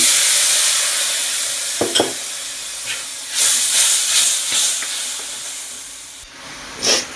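Country chicken pieces cook in spice masala as hot water is added, setting off a loud burst of steaming hiss and sizzle that fades, then rises again, with a few clinks and scrapes of a stirring utensil against the pot.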